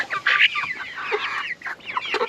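Hens cluck steadily and close by inside a farm coop that holds only female chickens, with overlapping calls and no talking.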